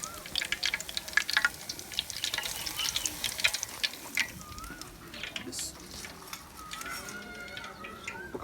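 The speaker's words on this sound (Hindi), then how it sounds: "उतनी देर में हम बाकी भी फ़िश फ्राई कर लेते हैं" Masala fish fries in a pan at a village cooking spot, a soft continuous sizzle and crackle with faint bird calls nearby and a voice talking over it.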